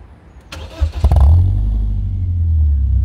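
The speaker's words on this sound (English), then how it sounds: "I'll start her up for you so you can hear what it's like." A BMW 318ti E36 Compact engine cranks briefly with a few sharp starter bursts, then catches and settles into a loud, steady low idle rumble close to the exhaust.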